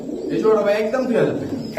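Kaldom pigeons coo in a close, steady run of low murmuring calls, while someone talks nearby.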